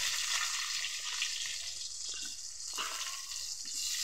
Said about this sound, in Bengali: আলুগুলো দিয়ে দিচ্ছি কড়ার মধ্যে